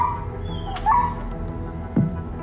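Young German Shepherd dog in distress after being hit, giving a few short high whimpers and yips over steady background noise, fairly close and loud.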